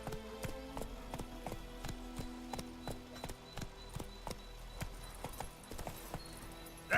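Roach, the horse in The Witcher 3, trots along with crisp, evenly spaced hoof clops that stay steady and close throughout.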